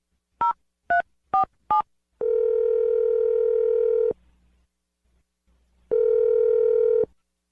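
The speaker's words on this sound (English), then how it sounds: "I'm going to dial Ryder's phone number" Four short touch-tone dialing beeps, then a steady telephone dial or ringback tone that pauses and returns once, clear and close on a phone line during a radio-show prank call.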